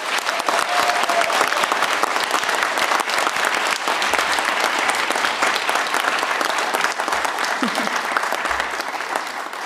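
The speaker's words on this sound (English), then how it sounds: "we now have one final opportunity to applaud all of our graduates" A large crowd at a commencement ceremony applauding the graduates: loud, sustained, dense clapping filling the hall for nearly ten seconds, with a few low thumps and faint cheering mixed in.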